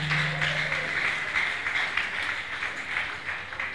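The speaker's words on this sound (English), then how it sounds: "Give a clap offering to the Lord." A church congregation gives a clap offering at a Thanksgiving Sunday service, sustained dense applause from many hands filling the room steadily for several seconds.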